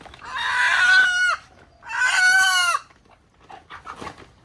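Desi chickens at a rural home: a rooster crows twice in long, loud, close calls, followed by softer scattered clucks from hens.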